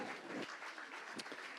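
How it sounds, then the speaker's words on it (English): A short burst of audience applause for the sound engineer at a live music gig at The Bedford, a brief dense patter of clapping filling the room. "Let's give him another round of applause."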